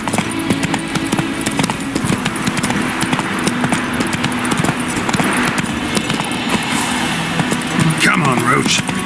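Hooves clip-clop steadily as Roach the horse gallops in The Witcher 3, a dense, continuous beat under loud game ambience and engine-like rumble, with some voice activity mixed in.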